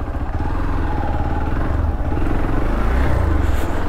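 A motorcycle engine runs steadily and close by on a very narrow road, a low continuous rumble with some mechanical clatter, with no voices.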